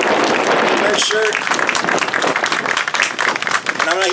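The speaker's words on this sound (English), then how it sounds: "a round of applause for Santos who's standing there." Crowd applause at an outdoor one-year remembrance gathering in Greenfield, California, a dense steady clapping wash heard alongside voices and cheers, fairly loud throughout.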